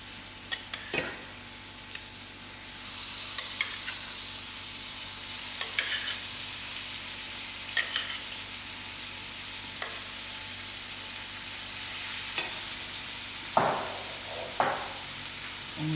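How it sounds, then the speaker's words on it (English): Washed mince frying in a pan, a continuous hissing sizzle broken by periodic scraping and clinking as it is stirred, close and steady throughout with no talking. "you have to keep stirring your mince continuous so it doesn't form the lump"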